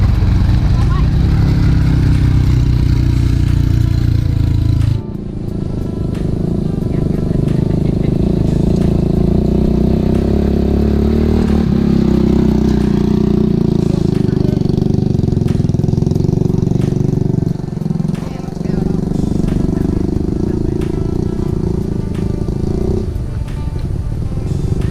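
A motorbike labors uphill with a steady, loud engine drone that wavers in pitch as it climbs, nearby and continuous, with a brief dip partway through.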